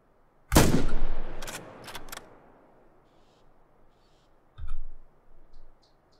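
Computer mouse button clicks while playing a shooter video game, a sharp burst followed by several quick clicks, then a few softer isolated clicks after a pause, close and alone.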